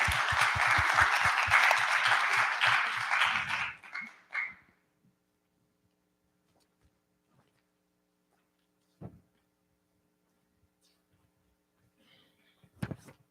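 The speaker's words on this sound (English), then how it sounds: "Let's give him a round of applause for being here." Audience applause at a hackathon event for a guest honoured for being there, several seconds of lively clapping with a few loud close claps that tapers off quickly into near silence, broken by a couple of isolated knocks later.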